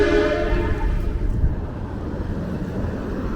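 A truck's loud train-style air horn blasts at a railroad crossing on a city avenue in Brooklyn, a long tonal blare that fades into rumbling traffic and street noise.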